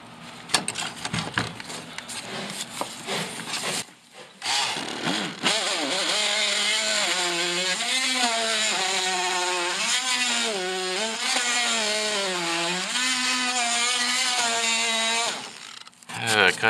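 A worn power saw with a burnt-out motor labours through a sheet of plywood. Its loud, steady whine rises and falls in pitch as the blade bogs and recovers. Short bursts and clatter come first, and the cut runs over several seconds.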